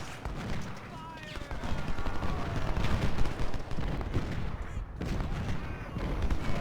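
Musket and artillery fire in the Ultimate General: Civil War game, a dense, continuous crackle of volleys with rumbling booms underneath. A voice talks over part of it.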